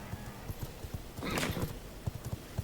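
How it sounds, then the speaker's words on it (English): Horse hooves clip-clop in a steady, evenly spaced rhythm in the V Rising video game, with a brief soft whinny-like rush in the middle; close and fairly quiet. "so let's just grab any horse for now."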